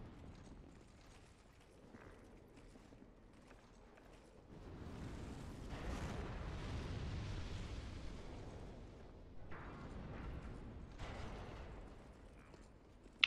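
Explosions in Dark Souls II boom through a game scene, a rumbling, sustained blast that builds after a few seconds, with further bursts and crackles rising and fading afterward.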